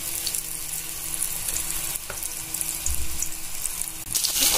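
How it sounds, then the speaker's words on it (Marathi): Eggplant slices, cut into rounds for bharit, fry in hot oil with a steady, close sizzle and crackle that runs throughout, with a couple of brief sharper bursts as pieces settle. "तुम्ही बघू शकता की आपलं तेल तापलेलं आहे, तर मी इथे आता फ्राय व्हायला टाकलेलं आहे।"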